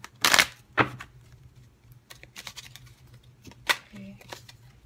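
Tarot cards are shuffled by hand in several short bursts of crisp riffling and slapping, close up, separated by quieter pauses with a faint background hum.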